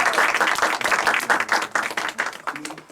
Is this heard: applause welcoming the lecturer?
yes